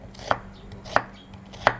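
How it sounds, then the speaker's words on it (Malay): A knife chopping an onion into thick slices on a cutting board, three crisp, evenly spaced chops, close and clear with no talk. "Bawang holland potong tebal-tebal, tak apa."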